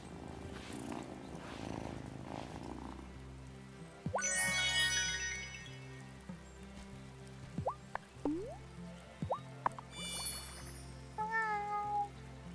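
Cat in the video game Wylde Flowers purring steadily, with several rising meows and a few soft drip-like plinks over a quiet game music bed.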